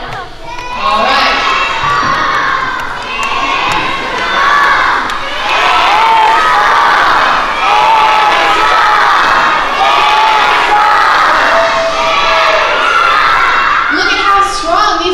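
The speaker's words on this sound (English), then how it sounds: "I need you to yell, stand strong, over and over again, as loud as you can" A large group of children at a vacation Bible school shouts a chant over and over as loud as they can, a sustained, dense roar of young voices that stays loud throughout.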